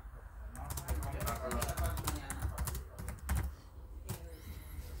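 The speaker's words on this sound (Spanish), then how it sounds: "Ay, Dios mío, este teclado." Fast typing on a computer keyboard, dense bursts of close key clacks with a few louder strikes, under a background hum and some speech.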